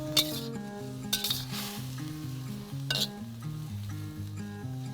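Cabbage stir-fried in a pan gives off a steady sizzle, with a few sharp clinks of utensils against the pan, all under a melodic music track.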